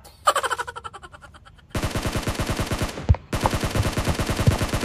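Gunfire in the mobile battle-royale game PUBG Mobile: a few spaced shots, then long rapid automatic bursts of loud, close rattling fire, broken by a brief pause before another sustained burst.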